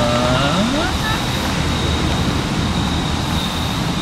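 A car drives past under steady road and traffic rumble, a continuous moderately loud wash of engine and tyre noise.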